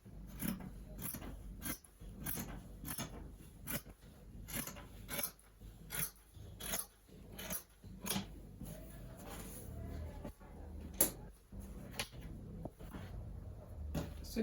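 Scissors cut through fabric for a baby girl's kimono dress in repeated crisp snips and rasping slides, close and fairly quiet, coming in an irregular rhythm.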